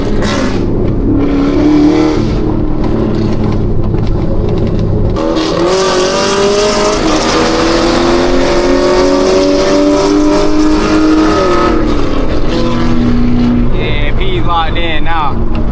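A cammed Chevrolet SS V8 roars continuously as it accelerates through traffic, loud and close with rising and falling engine pitch, lumpy idle-like pulses, and people talking over it.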